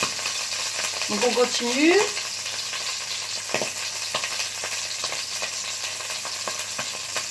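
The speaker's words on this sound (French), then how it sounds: "Elles chantent, les saucisses." Smoked sausages sizzling and frying in a pan, with a steady crackling hiss throughout, a brief stirring clatter early on, and a short remark in French over the cooking.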